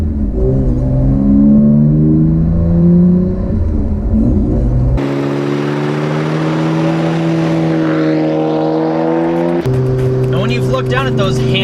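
A four-door sedan fitted with a Nissan GT-R engine accelerates hard through manual gear changes, its loud engine note climbing in pitch, dropping at each quick shift and climbing again, close and continuous with no talk.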